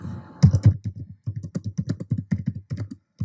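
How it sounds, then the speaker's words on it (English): Rapid keystrokes on a computer keyboard, a steady run of close, crisp clicks with short pauses, heard alone and fairly loud. "I'm not very good with my typing"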